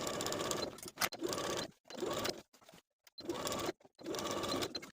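A sewing machine runs in several bursts while stitching the waistband seam around the top of a skirt, its needle whirring in steady, dense runs broken by short pauses.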